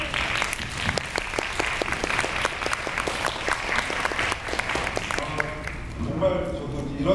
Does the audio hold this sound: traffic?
no